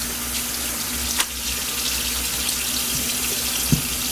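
Tap water runs steadily into a sink with a constant hiss and splatter, close by, with a couple of faint knocks and no talking.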